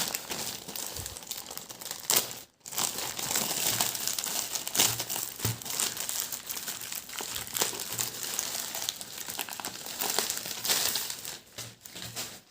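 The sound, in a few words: opening a Daraz plastic package of vape stickers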